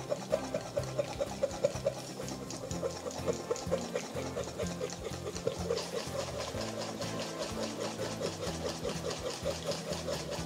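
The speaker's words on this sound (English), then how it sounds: "whisking continuously so that we get a nice smooth batter" A steady, rhythmic whisking of crepe batter that runs continuously with a fast, even churning pulse, fairly close and with no voices.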